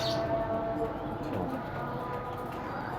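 Rajasthani pigeons coo softly in a pigeon keeper's loft in Pakistan, low murmuring calls blended into a busy background hum.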